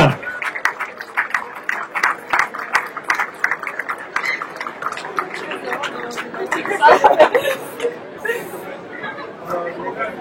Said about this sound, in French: merci d'applaudir très fort ce podium féminin du 8 km